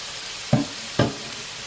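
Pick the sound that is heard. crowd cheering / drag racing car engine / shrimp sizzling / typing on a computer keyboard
shrimp sizzling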